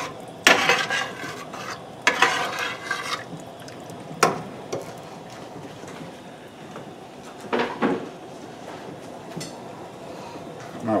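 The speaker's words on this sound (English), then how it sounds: "Give this a good mix." A spoon stirring mushroom and onion gravy with jalapenos in a pan, giving repeated scrapes and knocks against the metal over a low steady sizzle.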